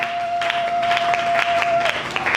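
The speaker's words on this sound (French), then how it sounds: "Acclame, acclame pour le Seigneur." A church congregation claps in a steady rhythm of sharp, moderately close hand claps, with a sustained musical tone held underneath and a faint murmur of voices.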